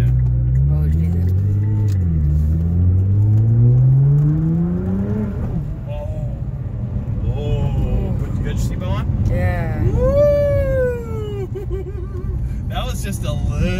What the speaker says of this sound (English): Just a little kick of the throttle